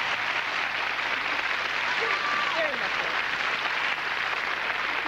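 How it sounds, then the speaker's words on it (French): Studio audience applause during a French television interview, a continuous even wash of clapping that lasts the whole stretch, with a voice talking over it. "On applaudit"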